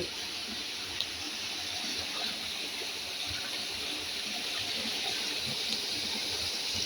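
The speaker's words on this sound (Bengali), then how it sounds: "দেখুন কি ভয়ানকভাবে যাচ্ছে পানি" A mountain stream in Bandarban rushes steadily downhill, a dense continuous roar of flowing water with faint splashes, close and unbroken throughout, no voices.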